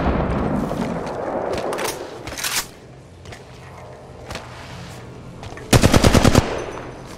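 Automatic weapon fire in the mobile shooter Apex Legends Mobile comes in a few sharp bursts, the loudest a close, rattling volley near the end, with quieter game ambience between.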